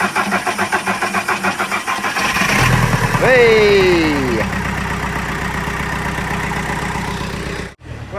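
A Volkswagen T5 camper van engine cranks and catches around the midpoint, revving briefly before settling into a steady idle, with a short shout just before it starts.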